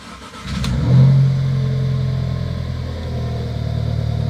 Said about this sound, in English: First start up with the new intake.